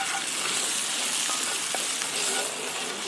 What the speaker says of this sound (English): now you want to put in the other half of the spice mix that you mixed up before, and just give that a bit of a stir around